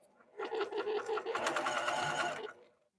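A sewing machine runs a steady burst of stitching on a zippered pocket project, a close, even mechanical whir lasting about two seconds before stopping, with no talk.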